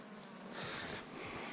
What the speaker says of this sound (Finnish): Täällä on ihan yksittäisiä mehiläisiä.